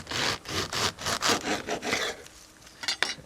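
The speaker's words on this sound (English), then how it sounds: "So the first thing we'll do with our artichoke here is we'll take it, and I like to cut off the top." A serrated knife cuts the top off an artichoke, making a run of close, rhythmic rasping strokes like sawing through something fibrous, followed by a few quicker scrapes at the end.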